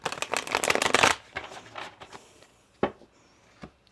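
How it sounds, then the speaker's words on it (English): Tarot cards being shuffled close up in a fast, dense riffle lasting about a second, followed by slower scattered slides and taps of the deck as it settles, with no talking. "Let me shuffle that for you again."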